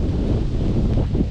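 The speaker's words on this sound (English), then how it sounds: "In fact, it's windy everywhere today," Wind buffets the microphone outdoors on a rainy day near the River Thames, a loud continuous low rumble with gusty swells and no voice.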